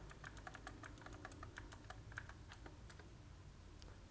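Rapid, irregular clicking of keys on a computer keyboard, continuous for the whole stretch, close and fairly soft, with no talking.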